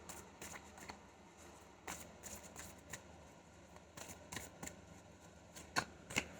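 Tarot advice cards being shuffled and drawn, a steady papery riffle of quick card flicks and soft slaps, close and fairly quiet, with no voice.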